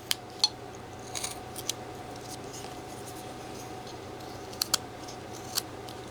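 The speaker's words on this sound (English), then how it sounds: "We're going to start taking off some wood right in here." A carving knife whittles a small wooden hiker figure, producing a few faint, sharp scraping clicks and slicing ticks scattered irregularly over a quiet background hum.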